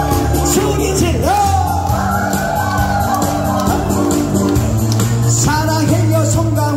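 An audience at a community singing class shouts and cheers loudly and continuously in a crowded room, with whoops and yells rising over sustained tones.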